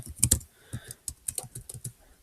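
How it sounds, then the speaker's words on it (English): Quick bursts of keystrokes on a computer keyboard, close and distinct, with uneven rhythm and short pauses between clusters of taps. "And you can just start typing."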